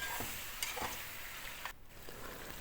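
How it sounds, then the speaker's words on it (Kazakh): Onions fry with meat in a pot for Uzbek plov, a faint steady sizzle broken by a few soft scraping strokes of a stirring spoon, with no voices. "Енді пиязымызды қосамыз. Пиязды да жаңағы қызартып қуырып аламыз,"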